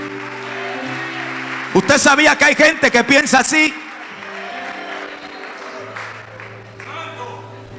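A church congregation gives a short, rhythmic burst of clapping during a Spanish-language pastor's sermon. Someone speaks before and after the burst, and faint talk continues underneath.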